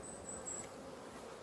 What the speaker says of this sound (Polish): Teraz to są takie spokojne loty, spokojne latanie, bardzo dużo pszczół na pożytku pyłkowym